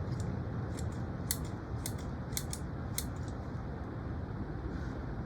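Scissors snip through Japanese Zelkova roots during repotting, a series of sharp, close clicks and crunches spaced unevenly over a low steady background hiss.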